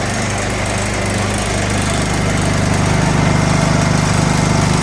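Honda EU2000i inverter generator running nearby, a loud steady engine drone with a buzzing rattle of tools shaking in a toolbox, growing slightly louder toward the end.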